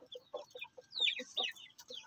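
Backyard chickens and chicks clucking in short, repeated calls at close range, with a few sharper higher-pitched squawks in the middle and no talking.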